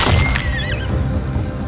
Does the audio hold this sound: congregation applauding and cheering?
no